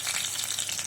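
Garlic, green chillies and mustard seeds hiss and crackle as they temper in about three spoons of hot oil, a steady, close, dense sizzle with no voices.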